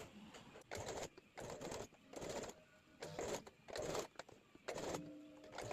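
A sewing machine stitches fabric cut from an old kurti, running in repeated bursts of fast whirring and clattering with brief stops between runs.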